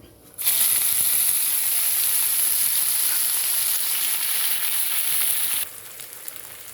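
Crabs fry in a generous amount of hot oil, a loud, steady sizzle that begins abruptly, holds for about five seconds, then drops to a quieter crackle.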